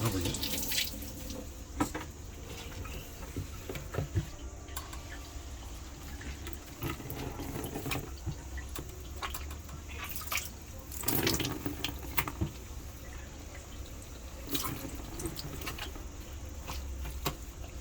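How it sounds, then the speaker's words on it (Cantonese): Water runs from a tap into a sink in a continuous splashing stream, with clatters and faint voices in the background. "根本就冇閂水喉，一路長開住"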